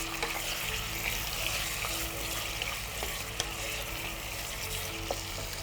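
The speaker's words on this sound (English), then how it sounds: "Now we'll now fry it for some time." Food frying in a pan with seeds, a steady dense sizzle filling the whole stretch, close and continuous with occasional small clicks and pops, and no talking over it.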